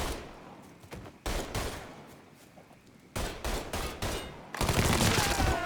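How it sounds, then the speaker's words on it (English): Gunfire in the Mafia III video game: bursts of shots and rapid automatic fire come in loud clusters separated by quieter gaps, ending in a sustained heavy volley. "He's shooting the shit out of me!"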